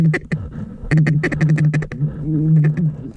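Several mallard ducks quack repeatedly in a corn field, loud and close, in bursts of rapid nasal calls with short pauses between.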